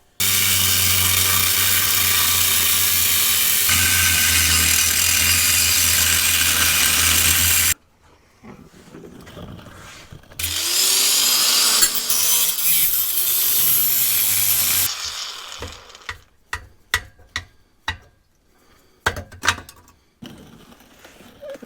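Power tool cutting through the exhaust pipe of a Suzuki Samurai, a loud steady grinding whine for several seconds, then stops and restarts briefly, ending in scattered clanks and knocks of metal being handled.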